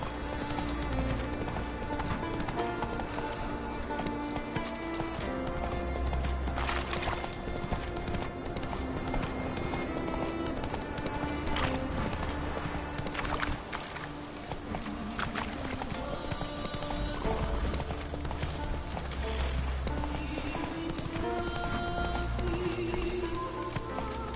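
Roach, a horse in a video game, gallops in a steady, continuous clip-clop of hooves over a dense game soundscape, lasting the whole stretch without a break.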